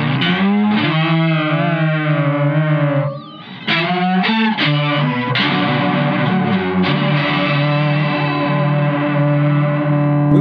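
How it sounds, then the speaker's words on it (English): An Eventide H90 guitar effect turns an electric guitar into sustained, heavily processed and distorted tones with echo, shifting chords and a steady tape hiss running underneath. "You can hear the hiss of the tape."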